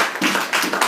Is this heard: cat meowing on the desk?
no